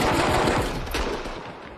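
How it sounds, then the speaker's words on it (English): Gunfire in the virtual reality game Horizon Worlds during a 2v2 Super Rumble tournament match, a quick rattling burst of shots that fades over under two seconds. "Matan gets hit with some perfectly placed shots from Neckface"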